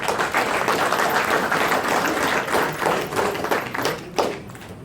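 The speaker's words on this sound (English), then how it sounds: "they all deserve a round of applause for their hard work" An audience at an AHEPA dance event claps together for the organisers, a dense, steady patter of many hands that carries on for several seconds before starting to thin out.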